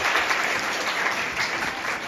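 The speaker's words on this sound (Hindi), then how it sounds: "तालियां जोर से।" Dense, steady applause from a crowd cheering 12th-grade mega test toppers at a 2024 awards event, loud and continuous throughout with no voices standing out.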